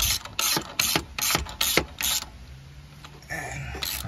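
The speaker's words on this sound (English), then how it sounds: "put your ratchet on." A ratchet wrench tightens a bolt on a 2015 Suzuki Every cargo van, sounding as a series of about seven close, evenly spaced ratcheting bursts, followed by quieter mechanical noise.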